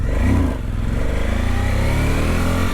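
A Suzuki V-Strom 1050 motorcycle at wide open throttle, its engine droning loudly and steadily close by with a strong, even tone throughout, no voices.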